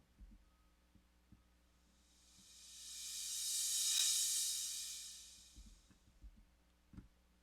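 An FL Studio beat playing back with a sad, nostalgic feel, its crash cymbal swelling up and fading back down in a long smooth wash, while sparse low thumps and hits sit at the start and end.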